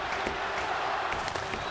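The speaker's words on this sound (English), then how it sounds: "The crowd trying to spur on the Stars with half a period to play." Hockey arena crowd cheering on the Dallas Stars against the Colorado Avalanche, a steady broad roar of voices and clapping filling the space without a break.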